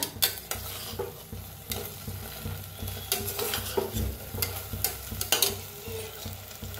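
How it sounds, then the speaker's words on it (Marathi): Eggplant (brinjal) fries in hot oil in a pan for a Hyderabadi dish. A steady sizzle runs throughout under frequent close clatters and scrapes of a spatula stirring the pieces. "छान असं भाजून घ्यायचं जरा तेलात"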